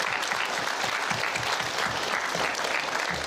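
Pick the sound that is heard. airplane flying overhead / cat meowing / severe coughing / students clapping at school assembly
students clapping at school assembly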